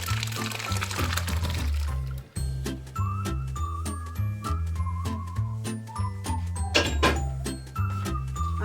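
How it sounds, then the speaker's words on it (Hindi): Curdled milk for paneer poured into a straining cloth, a close liquid glugging and trickling with clinks of a metal pot, interrupted by a short pause before the flow resumes. "अब ये देखिए, ये मैं इसमें कपड़े में ये डालने लगी हूँ।"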